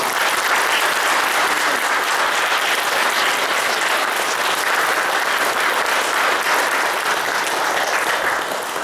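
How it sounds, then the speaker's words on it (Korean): Steady, dense applause from a church congregation fills the room during a pastor's installation service, loud and sustained throughout with no gaps. "크게 한번 박수 한번 해주시죠"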